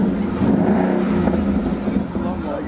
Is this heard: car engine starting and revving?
yes